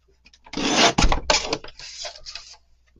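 A paper trimmer slides and cuts the white edge off a card in one close, rasping pass with short scraping bursts, no talk.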